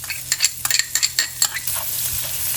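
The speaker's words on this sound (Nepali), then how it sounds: "म बटरमा बनाउँदैछु, गार्लिक राख्दैछु, लसुन" Garlic sizzles in melted butter in a pan while a utensil stirs it, giving a steady hiss broken by repeated close scraping strokes.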